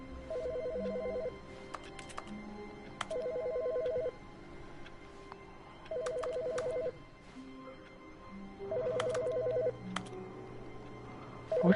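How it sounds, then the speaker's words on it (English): A desk telephone rings in The Stanley Parable, sounding out in four evenly spaced bursts of electronic trilling tones against a quiet office hum, with no one speaking. "Which phone is that?"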